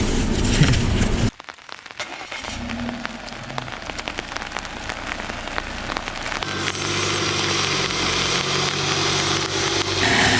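Steady rain pattering on the roof and panoramic glass of a parked Volvo XC60, heard from inside the car; a dense, even hiss of drops that thickens after a brief quiet gap, with a faint low hum beneath.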